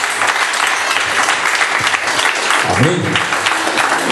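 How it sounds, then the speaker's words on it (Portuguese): Church congregation applauding in a dense, steady wash of clapping that lasts throughout, with voices speaking over it and a brief sung or spoken response near the end. "Pode aplaudir Jesus."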